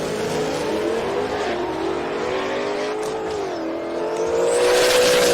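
A 2003 stick shift Ford Cobra and a Shelby drag race: loud engine roar with harmonics climbing through gear changes, a brief dip mid-run, then swelling again as the cars pull hard.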